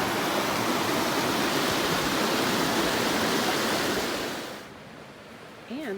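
Belfast Creek rushes beneath a pedestrian bridge on a Virginia hiking trail, a loud, dense, steady wash of flowing water that drops away sharply near the end, where a faint voice follows.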